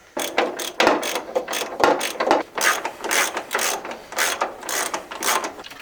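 Hand ratchet loosening radiator bolts on a Mazda B2200 pickup, a close, quick run of sharp metallic clicks in uneven bursts with short pauses between strokes.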